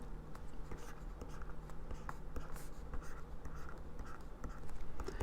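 A pen scratches a box onto paper, close and quiet, with short scraping strokes and small taps in an uneven rhythm.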